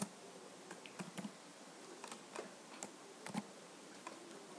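Someone types on a computer keyboard in sparse, irregular taps, some single and some in quick pairs, quiet and close against a low, even background hiss.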